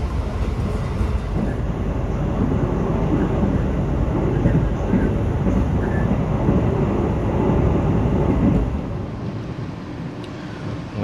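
An Argo Anjasmoro executive train rumbles steadily along the rails while slowing over a stretch of track recently cut by flooding, a dense low roar heard from inside the carriage that eases off near the end.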